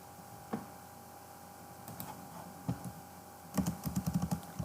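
Computer keyboard typing during a Portuguese-language maths lesson: a few scattered soft key clicks early, then a quick run of sharper keystrokes near the end, fairly close and moderately quiet with no talking.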